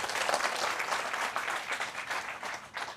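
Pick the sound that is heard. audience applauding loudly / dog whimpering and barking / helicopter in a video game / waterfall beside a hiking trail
audience applauding loudly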